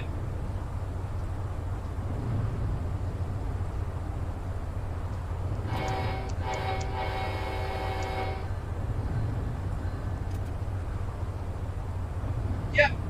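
A train runs in the Train Simulator video game on the Grand Central to Albany route, with a steady low rumble throughout and a horn sounding for a couple of seconds midway.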